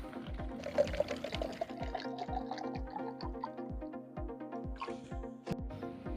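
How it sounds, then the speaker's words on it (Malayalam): Water is poured into a coconut-shell drip system set over a vegetable grow bag, a quiet steady trickle with regular dripping plinks recurring at an even rhythm. "നമുക്ക് വെള്ളം ഇത് ഒഴിച്ചു കൊടുക്കാം"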